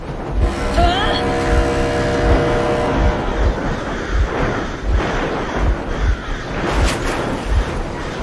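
A vehicle engine runs in the video game Metro Exodus, a steady rumbling drone with a regular thumping pulse and some wind noise, while a voice speaks over it.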